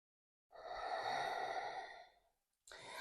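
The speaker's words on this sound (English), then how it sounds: "Take one more breath." A single long, deep breath is exhaled audibly and close up during a calm yoga flow, trailing off into quiet before another breath begins at the end.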